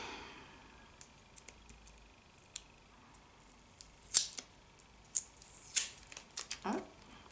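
A Biotyfullbox beauty subscription box for February is cut open, with sharp scissor snips and clicks building into a quick flurry of cutting and crinkling near the end, close and fairly quiet with no voice.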